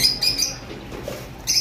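Red factor conures call out in short, bright chirps and squawks, a burst at the start and another near the end, with quieter room noise between them.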